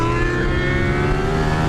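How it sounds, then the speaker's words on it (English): A V-twin motorcycle engine revs hard toward the red line, producing a loud, steady, close-up roar with a strong low drone across the whole short stretch. "you let it rev up to the red line and the thing absolutely rips away"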